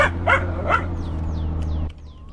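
A dog in the video game My Summer Car gives three quick barks up close, followed by faint whimpering yips over a low steady engine hum.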